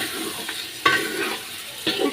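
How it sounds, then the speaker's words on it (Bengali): Rice for biryani fries in a pot as it starts to stick to the bottom. A soft sizzle runs throughout, broken by two sharper scraping stirs. "চালটা কিন্তু ভালো করে ভেজে নিব আমি, ভেজে।"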